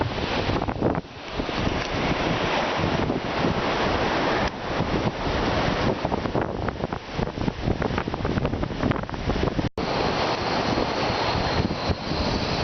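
Strong wind roars across the summit of Hawksbill mountain, battering the microphone with a continuous, heavy rushing noise and gusty surges and no pauses.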